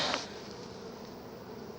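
Honey bees buzzing around drone brood comb in a hive, a steady dense hum throughout with a brief louder burst of air noise at the start.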